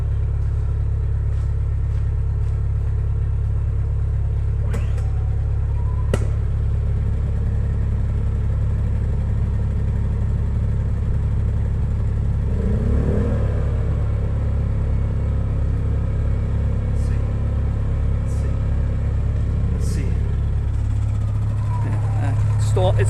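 A Predator 2000 generator engine runs with a steady low mechanical drone, loud and continuous, then falters and changes pitch near the end as it stalls. A voice talks briefly over it.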